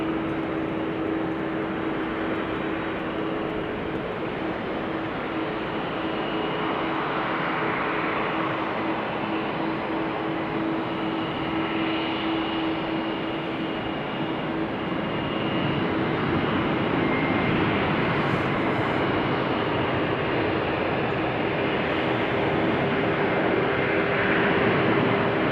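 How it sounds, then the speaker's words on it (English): Singapore Airlines cargo plane taking off from Schiphol Airport, a steady, loud broadband engine roar with a low tonal hum that holds throughout and swells slightly toward the end, no voices. "Her Majesty has just taken off. Singapore Airlines cargo."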